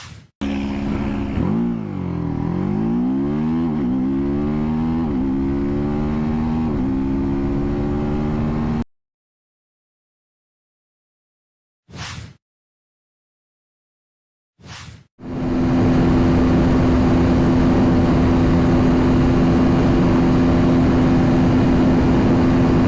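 A TVS Apache RTR 310 motorcycle engine revs and idles up close, its pitch swinging up and down before cutting out, followed by silence with two brief bursts, then a loud, steady engine drone resumes.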